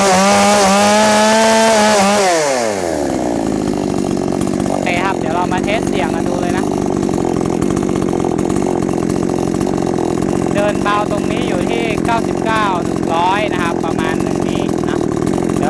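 A WASABI WAB-CS52G chainsaw engine runs loud and close, first revving high and then dropping to a steady rough idle, with brief throttle blips and someone talking over it.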